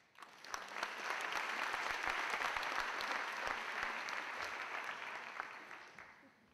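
An audience at a 2010 university opening ceremony applauds steadily for several seconds to welcome a speaker, a dense even clapping that swells quickly and fades at the end.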